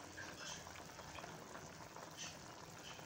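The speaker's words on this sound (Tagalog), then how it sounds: "kumukulo yung sayote, kumukulo yung manok." Chayote and chicken simmer together in a cooking pot, giving a steady, soft bubbling and hiss of boiling liquid that runs unbroken at a low, close level with no talking.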